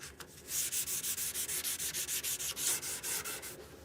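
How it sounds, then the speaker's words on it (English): Sanding by hand on an old, ten-year-old pine wood project, a steady back-and-forth rasp of about two strokes per second, close and loud, with no talking. "as I'm sanding this"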